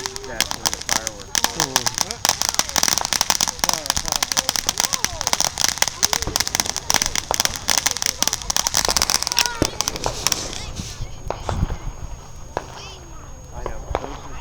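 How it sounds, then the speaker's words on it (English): Fireworks explode in a dense, continuous barrage of sharp crackling pops and bangs, some near and loud, thinning out toward the end, with a voice faintly heard underneath. "That's one of the fireworks."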